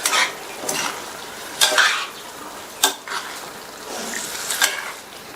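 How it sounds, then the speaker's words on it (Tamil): Spoon scraping and clinking in a pan while boiled plantain is stirred into masala, several short distinct scrapes at irregular intervals, close and moderately loud. "வேக வச்ச வாழைக்காயை இதுல சேர்த்துட்டு இந்த மசாலாலாம் நல்லா மிக்ஸ் பண்ணி விட்டுருங்க."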